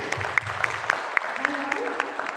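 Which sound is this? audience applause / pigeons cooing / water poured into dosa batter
audience applause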